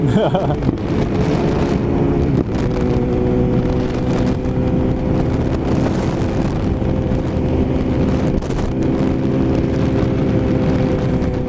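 A yellow Suzuki TL 1000 R motorcycle rides past on a road, its engine a steady loud drone throughout, with wind buffeting the microphone and a voice talking over it.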